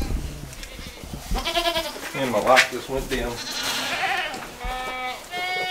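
Goats bleat on a farm in several loud, wavering cries near the microphone, with a person talking among them.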